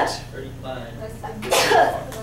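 A sneeze bursts out partway through a classroom prealgebra lecture, a single loud, sharp burst standing out over the teacher's ongoing talk.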